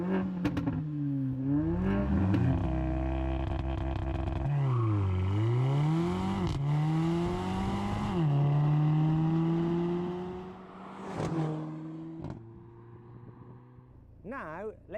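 An older Mercedes-AMG A45 with a 2-litre turbocharged four-cylinder revs hard and close. Repeated throttle blips climb and drop in pitch, with sustained high revs, a sharp crackle near the end and a quieter idle between pulls.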